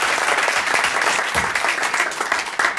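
An audience at a Toastmasters club meeting claps for a Toastmaster, producing dense, sustained applause that fills the room at moderate volume from start to finish.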